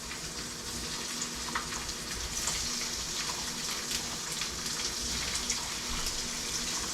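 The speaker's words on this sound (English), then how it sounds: "Here it's sizzling." Shrimp sear in a hot pan with a steady, close sizzle and faint crackle throughout, with no voice over it.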